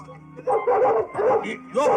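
A newly acquired dog straining at its leash gives several loud, yapping barks in bursts over about two seconds, close to the listener, with no talk over them.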